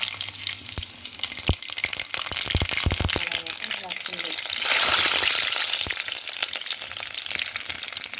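Red chillies, urad dal and mustard seeds frying in hot oil, a loud steady sizzle with crackling pops and a surge of hiss midway, while a person talks over it.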